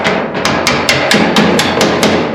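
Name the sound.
hammer tapping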